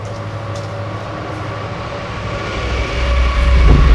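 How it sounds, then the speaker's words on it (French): A train rumbles nearby, heard from inside a military zone, with a steady low drone that grows louder toward the end as it approaches, with faint rail clatter. "Il y a encore un train qui arrive."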